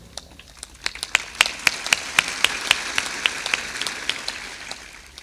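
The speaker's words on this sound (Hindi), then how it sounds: "खूब जोर से ताली बजाया करो।" An audience at a spiritual discourse in Dhana, Madhya Pradesh, claps loudly in a rippling burst that swells and then thins out, with no voices over it.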